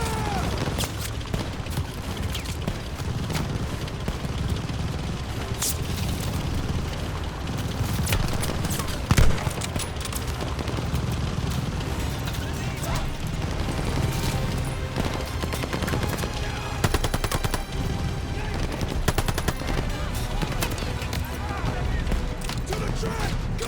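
Machine gun fire in Call of Duty Vanguard rattles in dense bursts alongside heavier booms and a chaotic battle din, with soldiers shouting orders over the gunfire.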